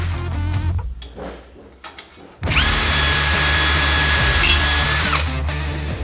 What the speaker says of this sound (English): I'm just going to drill a couple holes through here as well